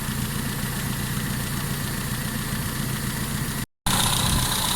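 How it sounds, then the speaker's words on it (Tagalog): A car engine, fitted with an oil catch can, idles steadily with a constant low rumble and vibration, briefly cutting out for a moment near the end before resuming. "so umaandar na yung ating makina."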